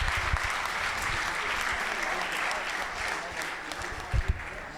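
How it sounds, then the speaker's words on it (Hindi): An audience at a scholarship distribution ceremony claps in steady, dense applause that holds at an even level throughout, with a few sharper nearby claps. "एक बार तालियां बजा के अभिनंदन करेंगे।"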